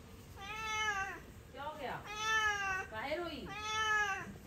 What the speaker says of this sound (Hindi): यहाँ पे हमने बिल्ली देखी है, रो रही है यार